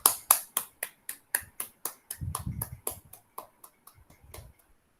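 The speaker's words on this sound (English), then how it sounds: "clap your hands." Young children in a kindergarten class clap their hands in a quick run of sharp, evenly spaced claps that grow quieter and more ragged before stopping.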